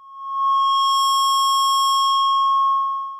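A Dewanatron Novitiate synthesizer sounds a single sustained square-wave tone through a filter, a steady, smooth pitch that swells in, holds for a few seconds and fades out, with no other sound.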